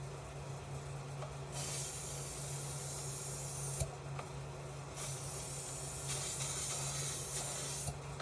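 Spray paint hissing from a rattle can onto the floors of a 1972 International Travelall, in several sustained bursts separated by short pauses over a steady low hum.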